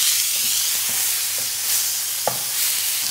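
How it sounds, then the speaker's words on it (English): Beef fillet searing and browning in a hot pan, a steady broadband sizzle running throughout with a few faint knocks and one sharper tap near the end. "turning the meat until it's lovely and brown all over"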